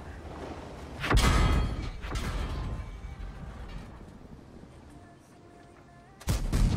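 Gunfire in an online shooter video game: a few heavy, booming shots crack out at the start and end, with a rumbling, muffled background between them.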